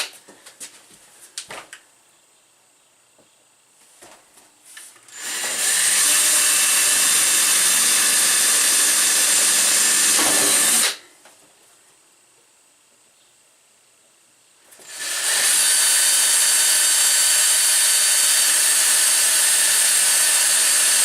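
Power drill spinning at high speed while boring through metal during wall insulation and panel installation: two long, loud, steady whining bursts separated by a quiet pause, with faint handling noises before the first.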